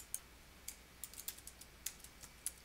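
Light, quick clicks of keys on a computer keyboard, about a dozen irregular taps spread across a quiet background, close and crisp with no voice over them.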